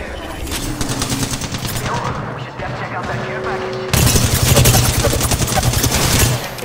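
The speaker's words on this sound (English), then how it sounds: "They're shooting at me." Enemy gunfire in the Apex Legends battle royale game: rapid automatic bursts crackle continuously over in-game effects and a player's voice, swelling much louder and denser in the final seconds as shots rain in close.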